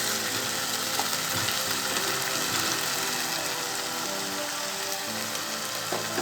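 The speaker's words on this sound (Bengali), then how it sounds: "ওই তেলেতে আমি ফোড়ন দিয়ে মশলাটা" Spices sizzling steadily in hot oil while tempering for Bengali shukto, a dense, even crackle of frying that continues close up without pause and with no talking.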